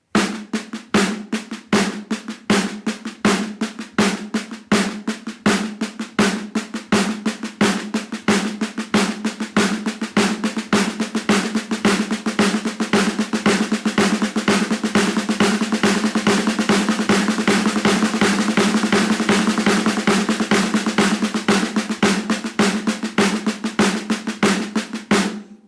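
Steady, rapid drum strokes from a two-handed Moeller exercise, the right hand playing down-up strokes while the left adds taps, giving a continuous, evenly pulsing stream of hits with accented beats, close and loud, with no talking.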